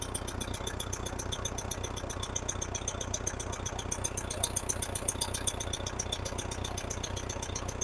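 A Case 430 tractor engine runs steadily at idle with throttle control restored after a high-idle fault, giving a continuous rattling, knocking drone with even rhythm throughout.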